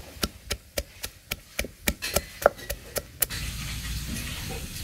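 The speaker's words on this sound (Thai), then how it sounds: "ตำพริกสดกับหอมแดงจ้า ตำพอหยาบๆจ้าพี่น้อง" Fresh chilies and shallots are pounded coarsely in a mortar, about a dozen sharp, evenly spaced thuds that speed up slightly, then stop and give way to a louder rustling scrape.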